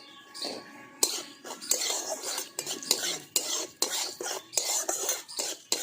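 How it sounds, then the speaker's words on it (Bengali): Salt and turmeric are fried in oil for a raw mango pickle while a metal spoon scrapes and knocks against the pan, giving repeated clinking, scraping strokes in an uneven rhythm over a faint sizzle, close up. "তেলের মধ্যে নুন আর হলুদটা ভালো করে ভাজা ভাজা করে নিয়েছি"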